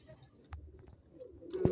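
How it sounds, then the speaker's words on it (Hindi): Flying-breed pigeons give a faint, low coo near the end of a brief stretch, over soft background rustle. "जो तीसरा जोड़ा है ये भी उड़ान वाले कबूतरों में से है"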